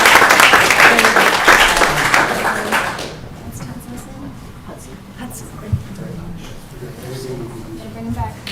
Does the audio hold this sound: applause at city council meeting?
yes